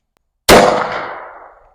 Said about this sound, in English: We're going to shoot some buckshot at it, and that's what I'm shooting from the side.